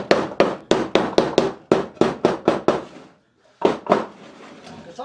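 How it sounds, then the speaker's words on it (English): A hammer taps staples down into a wooden hive-top screened feeder box for honeybees, making a rapid series of sharp, close knocks in quick bursts, with a brief pause before a few final strikes. "I'll just take the hammer and just tap these staples down."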